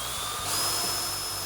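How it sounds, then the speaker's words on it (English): Step drill bit boring a stepped hole, a steady whining, grinding drill tone that swells slightly midway, close and continuous without talk. "Start drilling, and with each step of the drill, you're getting a larger and larger hole."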